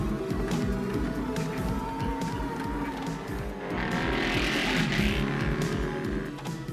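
A motorized cart driving a giant puppet speeds past at a Mardi Gras parade, its engine a loud, continuous roar with a rising hiss partway through and no voices.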